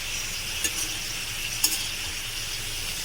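Bitter gourd stir-fry cooks in hot oil with crushed garlic, a steady close hiss of sizzling frying throughout, with two light clinks of a utensil against the pan and no talking.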